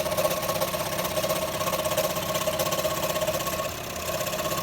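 A Proxxon scroll saw cuts with its blower clearing sawdust, giving a steady close buzzing motor drone with a rapid reciprocating rhythm and no pauses.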